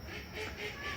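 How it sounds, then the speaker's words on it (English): Ducks quack faintly outdoors in the background, a brief muffled burst of calls behind broadband noise. "There's some ducks and people out there"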